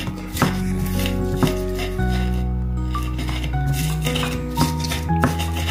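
Repeated grinding and pounding of stone on stone as salt and spices are ground in a mortar and pestle, steady rubbing strokes with occasional sharper knocks, close by with no talking.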